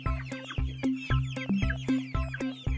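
A cartoon mother hen clucks in a bouncy, repeated rhythm, a series of close, loud, evenly spaced clucks.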